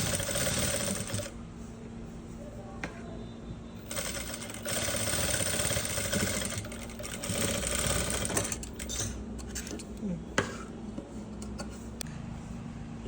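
Sewing machine stitching an umbrella dress, a steady close whirring hum with fast ticking, running in stretches with brief slowdowns and a small clunk near the end.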